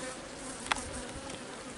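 Honeybees in a colony during a hive inspection, a steady diffuse buzzing hum filling the background throughout, with one brief sharp click partway through.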